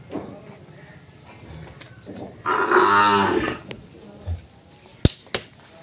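Farm cattle, bulls and local-breed dairy cows with calves, with one loud close moo lasting about a second, set against faint background talk and a few sharp slaps or clicks afterward.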